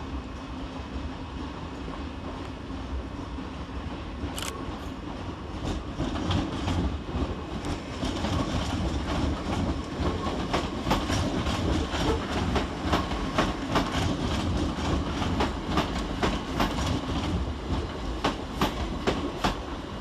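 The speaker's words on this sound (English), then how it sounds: "Arriving to terminate with an empty carriage working from Lovers Walk is 387-203" Class 387 electric train 387-203 arrives at Brighton railway station as an empty carriage working from Lovers Walk. Loud, close rail noise builds after a few seconds into a sustained rumble with repeated clickety-clack wheel beats and sharp metallic squeals.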